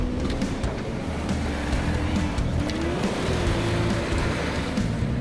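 A Mitsubishi Triton 4WD ute spins its wheels climbing a steep off-road hill, its engine droning loud and close with a rising and falling tone over a constant rough roar of tyres and dirt.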